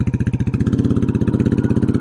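A Royal Enfield Classic 350 with a cam, FuelX, DNA filter and full Baxter Cycle cat-delete exhaust thumps close up in quick, even, loud pulses, holding a punchy, regular single-cylinder beat.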